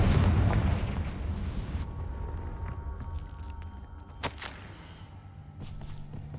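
A fire-spell explosion in the Hogwarts Legacy video game: a loud, rumbling blast that fades into a long low crackling tail, with a sharp pop and faint steps afterward.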